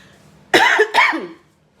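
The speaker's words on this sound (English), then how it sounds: "Oh man, I talked up the cough." Two quick, harsh coughs from one nearby person, back to back, followed by quiet.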